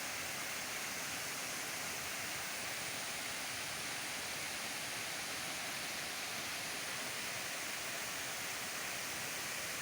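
A dense, steady roar of falling water from the multi-tiered Huai Mae Ee waterfall in Thailand fills the air, constant and loud with no breaks.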